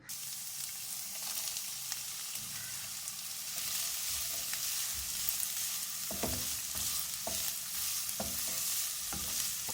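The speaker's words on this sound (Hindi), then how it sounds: "तो अब ये मैं फ्राई करूँगी।" Black raisins fry in hot oil for Afghani chicken pulao, giving a close, continuous sizzle punctuated by repeated scraping stirs in the latter half.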